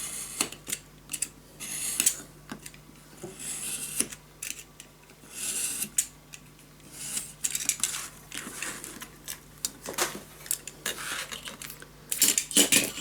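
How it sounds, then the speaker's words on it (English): Paper pieces are cut for a scrapbook album, with repeated short snips, slides and light clicks of a cutting tool in irregular bursts, close and fairly quiet, with no speech. "Alright, I'm gonna cut my pieces."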